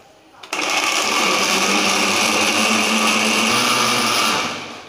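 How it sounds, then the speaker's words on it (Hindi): An electric blender grinds mango and peach juice: after a short pause the motor starts with a loud, steady high whirr that runs for about four seconds and then trails off. "तो अब हम इसको दोबारा से ग्राइंड करेंगे"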